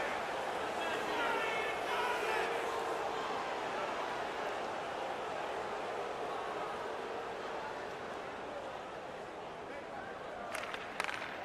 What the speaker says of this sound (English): The home crowd is furious.